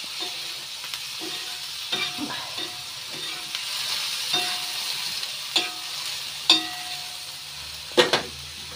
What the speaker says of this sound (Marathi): मस्त बसली बघा, एकदम एकच नंबर फोडणी